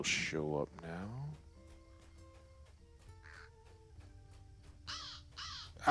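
Crows in the video game LOTRO caw in a few harsh bursts at the start and again near the end, over a quiet backdrop of soft game tones.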